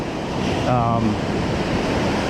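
Ocean surf with whitecaps breaking on a sandy shoreline, a loud steady wash of waves and wind noise; a brief voice-like tone rises over it near the start.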